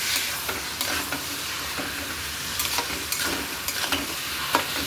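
Rice and spices frying in a pan, a loud, continuous sizzle broken by scraping stirs and light clinks of the utensil, with no talking.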